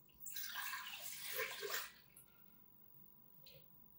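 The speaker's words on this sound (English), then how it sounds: "to our pot, we are going to add 3 cups of pineapple juice" Three cups of pineapple juice pour into a pot for ribs, a soft, close splashing stream lasting under two seconds before stopping, followed by a faint drip.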